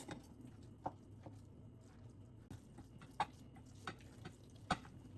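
Sriracha sauce and sesame oil mixed in a bowl, a quiet scraping stir with a few soft, sharp clicks of the utensil against the bowl.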